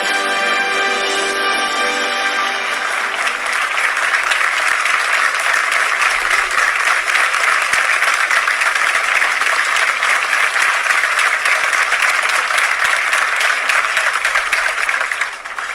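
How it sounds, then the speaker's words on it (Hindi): Sustained applause from a film's courtroom scene in Jolly LLB 2, a dense, steady wash of clapping that holds at an even, loud level throughout with no voices. "जिस तरीके से आपने देखा तालियां बजाते हुए"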